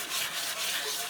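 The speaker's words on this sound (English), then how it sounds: "When you're sanding the one side," Brief, close scratchy rubbing of sandpaper against a wooden kendo stick, a steady back-and-forth abrasive hiss.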